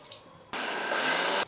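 A kitchen mixer grinds peanut chutney with added water in one short burst of about a second of loud whirring, starting abruptly after a quiet moment and cutting off sharply.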